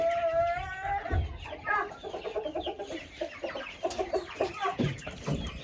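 A flock of chickens in a poultry yard, broilers among them, clucks and chatters continuously nearby, with an overlapping mix of bird calls and a loud low thump partway through.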